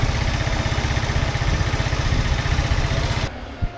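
A Vespa Sprint S150 scooter idles with a fast, even, low putter. The engine is close and steady for about three seconds, then cuts out, leaving quieter background noise and one short knock.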